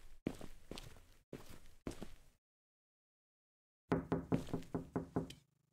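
Knocking on a door in a horror video game, with three short bursts of raps followed after a pause by a quick run of heavier footstep-like thuds close by, no voices.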